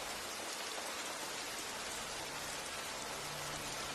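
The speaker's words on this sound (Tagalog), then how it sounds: "Ulan yan." Steady rain falls continuously as a dense, even hiss of drops on surfaces, fairly close and constant with no voices.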